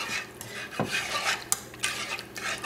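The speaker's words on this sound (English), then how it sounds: "we're just going to keep stirring that until it melts down" A utensil scrapes and clinks steadily around a pan of warming cauliflower pizza sauce, close stirring sounds with a soft background sizzle and no speech.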